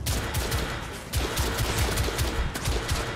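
Rapid, sustained gunfire from The Order: 1886 rakes toward the player in dense overlapping bursts, loud and continuous, with low booming impacts throughout.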